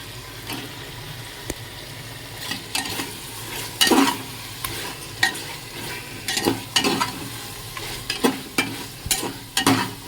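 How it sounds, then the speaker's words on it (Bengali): Spice paste and mutton fry in a pan with a constant sizzle, while a spoon scrapes and stirs in irregular bursts close up. "এই যে মশলাটা একটু ভালো করে কষে নিয়েছি, এবার মাটনটা মিশিয়ে দেবো।"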